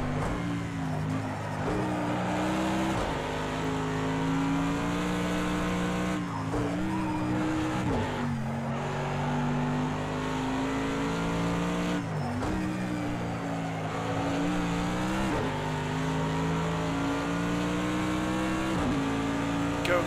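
Race car engine from Project CARS 2 at the Nurburgring 24, droning loud and steady with harmonic whine and repeated dips and rises as gears shift, faint tire scrub underneath.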